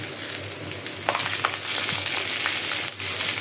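Panch phoron, cumin and nigella seeds fry in hot mustard oil with nearly cooked onion and garlic, giving a steady close sizzle with crackling pops and occasional stirring scrapes, no voices.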